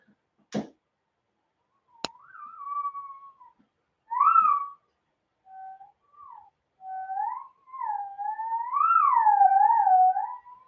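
A wavering, gliding theremin playing Ave Maria with sliding pitches and vibrato, slowly and alone after a couple of sharp clicks.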